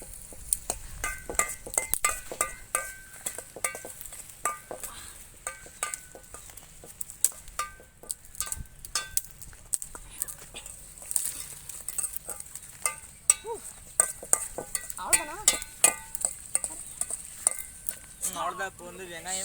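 Onions sizzle in hot oil in a home pan while a spoon scrapes and stirs them in frequent uneven strokes, close and fairly quiet, with soft voices talking now and then.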